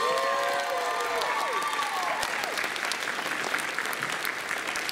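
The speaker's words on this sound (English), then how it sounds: "we definitely need to give our set director, set designer, a wonderful round of applause" A high school audience applauds the set director after a Beauty and the Beast stage production, a full, sustained round of clapping with some cheering and whistle-like voices early on.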